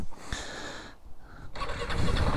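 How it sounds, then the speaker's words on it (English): A 2021 KTM 690 Enduro R motorcycle engine cranks briefly, goes quiet for a moment, then catches and settles into a steady, close running note. "let me now start the engine"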